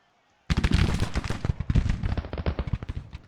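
Rapid, dense rifle gunfire from Sharps rifles in a Civil War video game skirmish, many overlapping sharp cracks starting abruptly and continuing in an irregular volley, loud and close.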